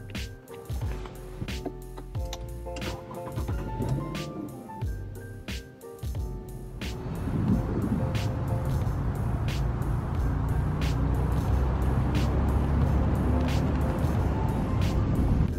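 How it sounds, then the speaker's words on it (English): A 2015 Infiniti QX70 on the road, first idling or creeping with ticking clicks over faint music, then pulling away into a steady, louder blend of engine hum, road roar and wind from the cabin. "Let's go ahead and take a drive in the QX70 and talk about its reliability."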